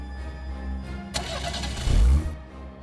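A car engine cranks and catches with a sharp burst, swells to a loud rev, then settles into a lower running hum, heard close and clear.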